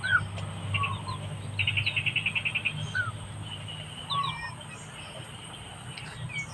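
Chickens cluck on a backyard farm, a quick run of rhythmic clucks in the middle amid scattered chirps from other birds, over a low background hum.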